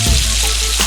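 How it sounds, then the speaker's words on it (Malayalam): Fish coated in masala fries in a hot pan, giving a loud, steady, close crackling sizzle with no voices. "ഞാനിപ്പോൾ അതുപോലെ തന്നെ മസാല ഇട്ട് വറുക്കുവാണ്"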